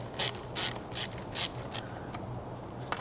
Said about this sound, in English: we're going to remove these two nuts right here with a 7mm socket